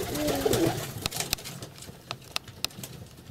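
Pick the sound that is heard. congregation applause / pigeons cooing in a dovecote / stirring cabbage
pigeons cooing in a dovecote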